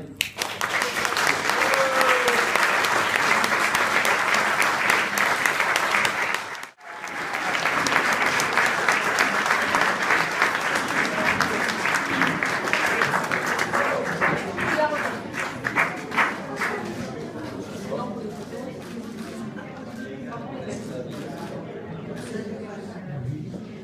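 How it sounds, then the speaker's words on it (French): Sustained, dense applause from a crowd at a community reception party, loud and continuous with one brief break, then gradually thinning and fading toward the end with murmuring voices underneath. "Je pense qu'on peut les applaudir."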